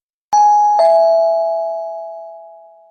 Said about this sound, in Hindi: तभी डोरबेल बज उठी।